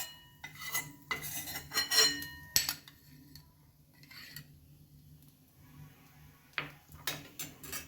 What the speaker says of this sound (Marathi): या कढईमध्येच आता आपल्याला ड्रायफ्रूट परतून घ्यायचे आहे.